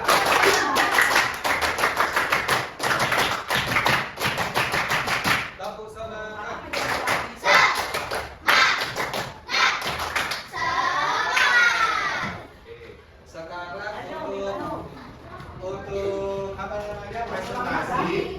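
Fifth-grade classroom doing the Indonesian scout (pramuka) clap pattern twice, sharp rhythmic group claps in quick bursts with pauses between, children's voices and shouting mixed in.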